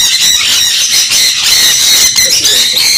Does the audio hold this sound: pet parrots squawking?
yes